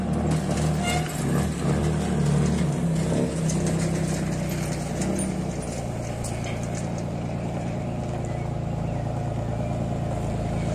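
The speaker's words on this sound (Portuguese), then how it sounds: "ele acelera muito esse caminhão aí" A truck engine revving at a produce wholesale market, a loud rough roar through the first half that drops to a steadier lower rumble, continuous and close.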